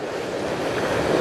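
Sea waves wash against a rocky shore near a large round boulder, a continuous broad rushing surf with wind noise on the microphone, swelling slightly toward the end.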